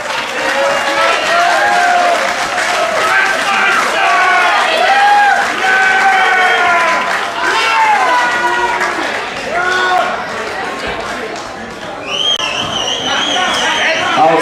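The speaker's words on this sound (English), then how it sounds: "Big round of applause for his opponent, Josh Leighty." Crowd applause and cheering at an American Elite Cagefighting heavyweight bout, loud and continuous with whoops and shouted voices mixed into the roar.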